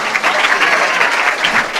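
Mushaira audience breaking into dense, loud applause, a steady wash of many hands clapping together.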